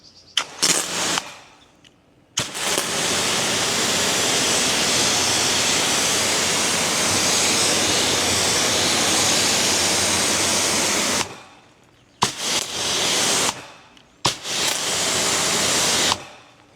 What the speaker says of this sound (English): When I put the jet against the paint, you can see that water starts to pool because there's too much water